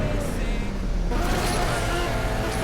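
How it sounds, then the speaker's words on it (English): Car engine from the racing game Asphalt 8 roars steadily and loudly for the whole stretch, with a rising tonal whine partway through. "let's see if this engine sound also gets a little funky or not"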